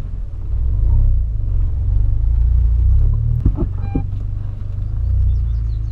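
A Volkswagen Polo engine runs close by with a deep, steady rumble, broken midway by a couple of brief clunks.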